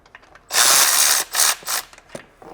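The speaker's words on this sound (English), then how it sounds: "Now I can start loosening transmission bolts." A ratchet clicks rapidly and loudly up close while loosening transmission bolts under a BMW E39 530i Touring, one long burst followed by two shorter bursts, then a few faint metallic taps.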